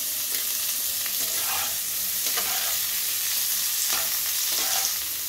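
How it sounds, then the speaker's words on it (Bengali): Steamed cauliflower frying in oil in a wok with turmeric and salt, a steady close sizzle with a few soft stirring scrapes, no talking. "ভাপিয়ে রাখা ফুলকপিগুলো আগে ভেজে নিচ্ছি।"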